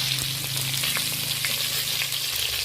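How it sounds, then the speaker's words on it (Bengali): Fish heads, two of them, frying in hot oil in a pan for a sole fish curry, with a steady close sizzle and occasional scraping knocks as they are stirred and turned. "প্রথমত বেশ ভালো করে মাথা দুটো নেড়ে চেড়ে ভেজে নেব।"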